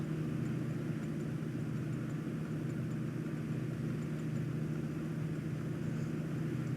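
A light aircraft's engine drones steadily at cruise power at 7,000 feet, with a constant low hum and an even wash of broadband rumble, close and unbroken throughout.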